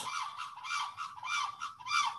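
A sarus crane, the tallest flying bird, calls outdoors in a series of loud, trumpeting honks. Four or five rhythmic pulsing blasts follow one another closely, with no speech over them.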